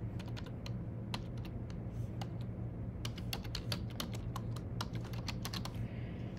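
Fingers type on a computer keyboard in a quick, uneven stream of close key clicks over a steady background hum. Nobody talks.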